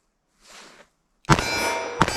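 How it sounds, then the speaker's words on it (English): Two .357 Magnum revolver shots from a 4-inch barrel at an outdoor range, loud sharp cracks about three-quarters of a second apart, each followed by a ringing tail, with a faint rustle before the first. "Let's see how it feels in our 4-inch barrel here."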